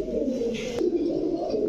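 Pigeons kept for sale coo in a steady, low, throaty drone that carries on without a break, close and moderately loud over faint background noise.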